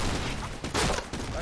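Bursts of gunfire in a first-person shooter game crackle in a quick, dense volley, loud and close, with a short gap before the shots resume.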